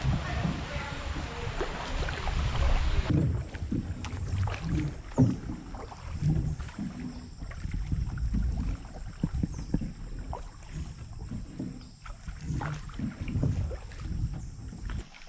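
Canoe paddle strokes splash and drip in mangrove river water at an irregular rhythm, close by, with wind buffeting the microphone and occasional murmured voices.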